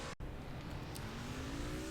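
NASCAR Racing 2003 truck series qualifying at Darlington, with a racing truck engine droning loudly and a rising whine as it accelerates, steady throughout and preceded by a very brief dropout.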